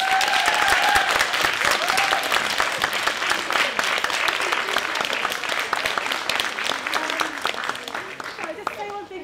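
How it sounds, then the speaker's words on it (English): Sustained applause from an audience at a school event honouring actors, filling the whole stretch at steady strength with dense overlapping claps and some crowd voices mixed in. "these amazing actors deserve one more round of applause"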